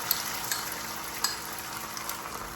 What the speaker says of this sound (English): It sizzles up pretty fast.